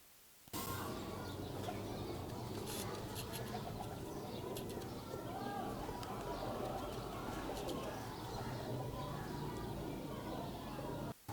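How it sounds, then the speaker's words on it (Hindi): Teddy pigeons cooing repeatedly at close range, soft throaty calls running steadily throughout alongside rustling and background noise. "ये एक नंबर टैडी कबूतर है।"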